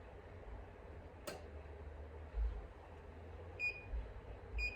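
A heat press counting down with a soft, steady tick-tock under a quiet room hum, punctuated by a sharp click early on and a few faint electronic chirps near the end.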